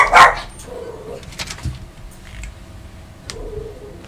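A dog barking in the Fallout New Vegas video game, one loud sharp bark up front followed by fainter yips and rustling game sounds, with no talk.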